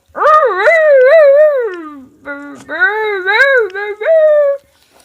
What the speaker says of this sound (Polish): to jest pies, to jest pies.